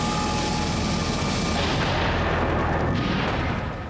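A gas bottling plant fire roars with a continuous, loud, dense blast of noise as gas explosions and a fireball rumble without a break, fading slightly at the end.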